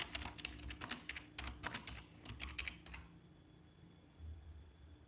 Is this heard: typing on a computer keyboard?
yes